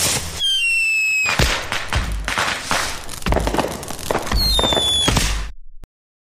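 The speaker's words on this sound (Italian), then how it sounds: "Ragazzi, venite, ci sono i fuochi d'artificio." Fireworks in an animated interactive story about saving a dog shelter: a run of loud crackling bursts and booms with rising whistles, packed densely over several seconds before cutting off to silence.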